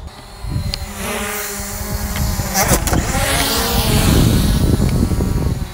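Hubsan Zino drone flying nearby outdoors, its propeller whine rising and falling in pitch as it changes altitude, with people talking over it and a louder engine hum building later.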